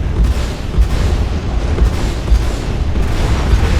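Ship-mounted Omnisky VI laser cannons in the space game Star Citizen fire volleys and blow up a target, heard as a continuous loud rumbling wash broken by several deep booming thumps.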